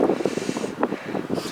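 Gusty wind buffeting over a stubble field on a very windy day, short uneven rushes and thumps of air against the microphone, close and fluttering.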